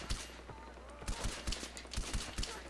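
Rapid gunfire bursts in the first-person shooter Far Cry 4 on PS4, sharp repeated shots cracking in clusters across the whole stretch over game ambience, with no talking.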